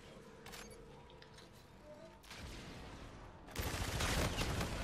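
Gunfire in Call of Duty: Infinite Warfare, starting with scattered distant shots and rising to dense, loud rapid bursts near the end, with no talk.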